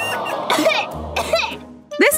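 A child coughs in short harsh bursts, three close, loud coughs spaced across a couple of seconds with no other talk.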